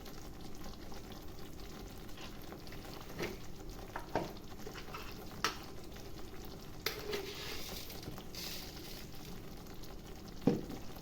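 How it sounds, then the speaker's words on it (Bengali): Palak paneer masala with paneer bubbling and sizzling in a pan, a steady soft crackle with occasional stirring scrapes and pops, alone and fairly quiet. "তো মশলাটা অনেকটা হয়ে এসেছে, পনির দিয়ে ফুটছে।"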